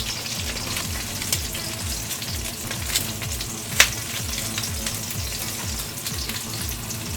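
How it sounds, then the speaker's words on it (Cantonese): Lobster tail pan-frying in a hot pan, a steady close sizzle with crackling pops and one sharp spatter partway through, no talking. "龍蝦尾，我哋大概煎佢1分鐘左右啦"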